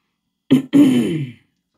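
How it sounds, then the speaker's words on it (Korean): A man gives a loud cough followed by a harsh, drawn-out throat clearing, two close bursts standing alone in silence. "하고 큰 기침을 했다."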